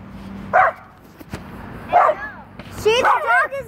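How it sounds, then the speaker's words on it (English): A dog barks three times in short, sharp bursts, close by, with the last bark trailing into a yelping whine, set against quiet background noise. "See, the dog is barking at it."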